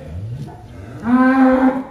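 A giant cow at a cattle yard in Wonosobo lets out a single loud, close, drawn-out moo that starts low and grows stronger, with no talk over it.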